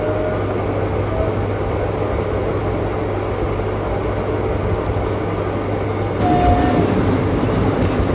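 Small ride train at the Suborno Gram resort running on its track toward a cave, with a continuous, fairly loud rumble that grows slightly heavier near the end.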